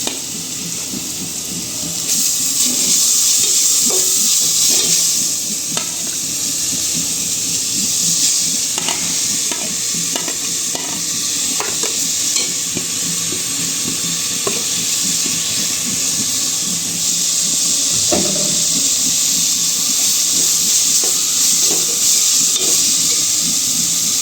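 Grated papaya frying in ghee in a pot for a sweet sabudana papaya semai, giving a loud continuous hiss and sizzle up close with light intermittent scrapes of stirring.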